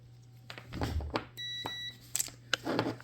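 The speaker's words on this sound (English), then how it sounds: "grab a multimeter, set it to the continuity beeper setting" A multimeter set to continuity tests a brake light switch from a Chrysler, Jeep or Dodge, giving one short, steady electronic beep in the middle, surrounded by faint handling clicks and taps.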